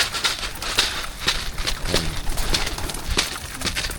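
A flock of pet pigeons kept by breeders coos in repeated soft throaty calls close by, over scattered fluttering and scratching.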